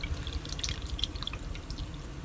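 A whole can of beer pours into an Instant Pot holding corned beef and pickling spices, a steady liquid splash and trickle with bright dripping and bubbling accents throughout, fairly close and without talk.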